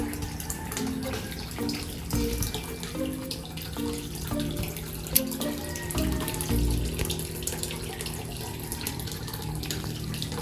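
Water pours steadily into a backyard tilapia pond, a continuous rushing splash into standing water with faint tonal hum in the background.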